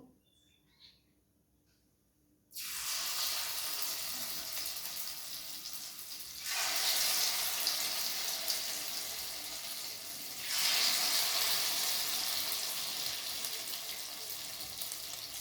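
Durba grass fritters dropped one by one into hot oil, a loud steady sizzle and crackle that surges as each new batch goes in, alone without talk.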